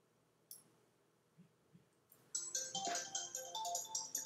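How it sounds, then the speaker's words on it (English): A phone ringtone begins partway through after a few faint clicks and quiet room sound, then keeps chiming in bright repeating tones close by. "That's my phone ringing."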